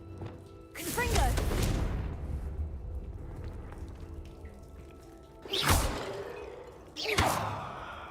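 The Confringo blasting spell in Hogwarts Legacy lets off three loud bursts: a long rumbling boom with crackling debris, then two sharper, shorter blasts close together near the end.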